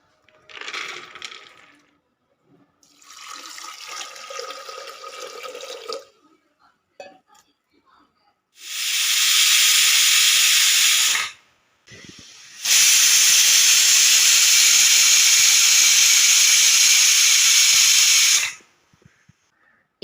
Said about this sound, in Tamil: இப்போ 2 விசில் வந்ததும் குக்கரை ஓப்பன் பண்ணி பார்க்கலாம்.